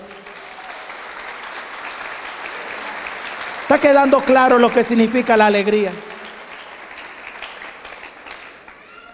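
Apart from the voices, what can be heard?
congregation applause during a sermon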